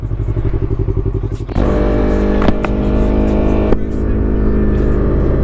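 Yamaha R3 motorcycle engine idling with a steady throb, then throttle opens sharply into a loud, sustained revving drone as the bike accelerates onto a highway, close and continuous with a brief gear-change dip.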